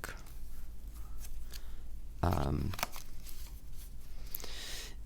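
A square tarot deck gets a quick riffle shuffle, a short burst of fluttering card slaps close by, with a person talking before and after.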